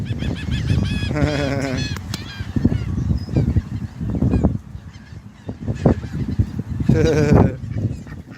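Loud honking waterfowl calls in repeated bursts, close by, with scattered shuffling noises between the calls.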